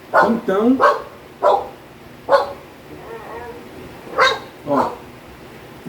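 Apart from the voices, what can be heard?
dog barking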